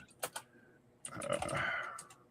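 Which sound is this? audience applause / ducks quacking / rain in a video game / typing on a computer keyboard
typing on a computer keyboard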